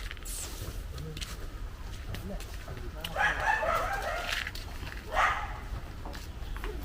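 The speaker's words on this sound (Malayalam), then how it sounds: "കോഴി വന്നാ വീട്ടിൽ കയറിപ്പോയി." Chickens near a house let out two brief bursts of loud clucking over a steady background of outdoor noise, with quieter sounds between them.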